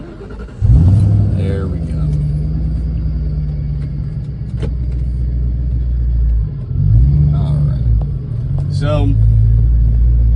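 A Cobra car engine rumbles loud and close as it pulls away and accelerates, revving up in strong surges with brief dips between shifts, while someone speaks briefly over it.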